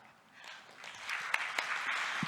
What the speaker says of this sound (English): please give a round of applause for Ms. Sanya